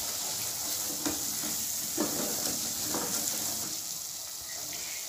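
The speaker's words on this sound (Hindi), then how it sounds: "ये देखें बेसन की भुनाई हो रही है" Gram flour roasts in oil in a pan for kadhi, giving a soft, steady frying sizzle with faint stirring scrapes, quiet and continuous with no voices.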